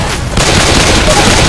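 Rapid, dense gunfire blasts loudly against zombies in Left 4 Dead 2, a continuous roaring fusillade that fills the whole moment after a brief quieter start.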